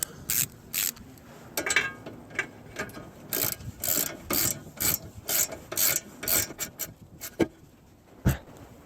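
A ratchet cranks a castle nut down onto a tie rod end on a vehicle, giving a steady series of short rasping clicks in bursts, close and fairly loud, with no talking.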